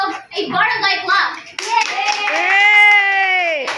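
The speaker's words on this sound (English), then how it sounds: "Give yourself a barangay clap." A classroom group does a rhythmic barangay clap: brief bursts of clapping mixed with children's voices, then a loud shouted chant carries over the final seconds.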